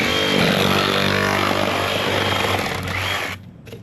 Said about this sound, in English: grab your Sawzall.